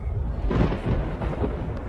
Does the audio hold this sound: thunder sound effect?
yes